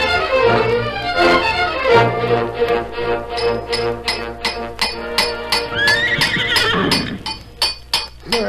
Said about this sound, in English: Brand new shoes for the finest horse that ever lived.